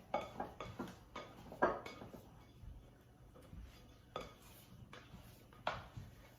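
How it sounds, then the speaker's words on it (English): A plastic bowl scraper scraping sticky, risen rosemary focaccia dough off the sides of a bowl, a series of close, irregular scrapes and soft knocks against the bowl with brief quiet gaps. "Use that bowl scraper we used earlier. Kind of get it off the sides because again, it's still kind of sticky."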